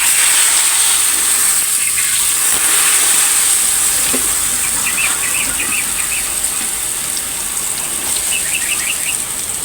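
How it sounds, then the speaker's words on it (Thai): Seasoned rice vermicelli stir-frying in vegetable oil in a home kitchen pan, giving a steady, close, loud sizzling hiss with occasional faint chirpy clicks from the utensils, and no talking. "ใส่น้ำมันแล้วก็ นำเส้นที่เราปรุงเมื่อสักครู่ เตรียมที่จะผัดลงไปเลยค่ะ"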